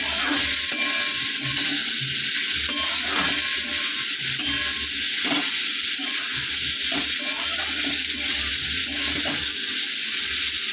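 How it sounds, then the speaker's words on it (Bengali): Yard-long beans frying in a pan, a loud continuous sizzle with periodic scraping strokes of a spatula as they are stirred, close and steady with no talking. "ভালো করে ভাজা করবো।"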